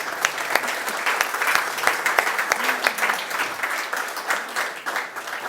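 Louder, sustained applause fills a hall at the close of a historian's book presentation ceremony, a dense wash of clapping with distinct sharp claps popping out near the listener.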